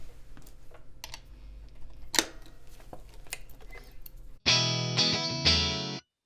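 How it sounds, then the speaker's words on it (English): Clean electric guitar, a Strat on single-coil pickups through a ToneX rig, plays a few bright chords near the end after a stretch of quiet clicking and tapping, each strum ringing out and fading. "let's get back to my Strat. Just single coils."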